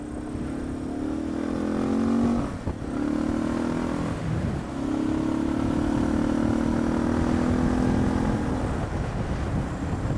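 Suzuki DR650SE fitted with an FCR-MX carburetor cruising on a freeway, a loud steady engine drone with two brief dips as the rider shifts, then a sustained pull under wind rush.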